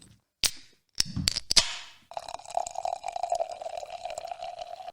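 A beer can cracks open with sharp pops and a hiss, then beer pours into a glass in a steady close gurgling stream that fizzes for several seconds.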